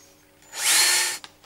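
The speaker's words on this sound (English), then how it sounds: "You can then cut the indicator hole using anything from a 12mm to a 20mm cutter." A power drill with a 15mm cutter bores a lock indicator hole through a door, whining loudly for about half a second with a rising then steady pitch before stopping, followed by a short knock.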